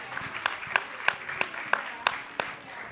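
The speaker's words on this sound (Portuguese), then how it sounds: "Palmas." Small audience applause at a panel talk: a sparse, rhythmic run of distinct hand claps at a steady pace, fairly close, over faint room murmur.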